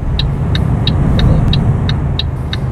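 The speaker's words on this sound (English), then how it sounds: "those Skodas are really, really loud." Steady loud engine roar of a Skoda-like car driving in Euro Truck Simulator 2 multiplayer, with a faint high repeating tick pulsing evenly over the rumble.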